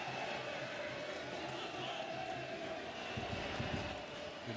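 Home crowd at a football stadium in Bebein, Equatorial Guinea, during an Africa Cup of Nations match: a distant, steady roar and murmur of spectators under a commentator's voice.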